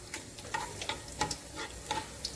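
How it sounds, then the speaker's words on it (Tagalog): Corned beef fries in a pan while being stirred until golden brown, a soft steady sizzle broken by repeated scraping strokes of the spoon, close and fairly quiet. "Haloin natin until mag-golden brown siya."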